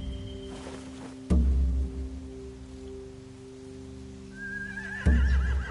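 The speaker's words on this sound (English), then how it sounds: "They have horses." A horse whinnies once with a rising, wavering cry near the end, set against low rumbling dramatic music and dull booms; no one speaks.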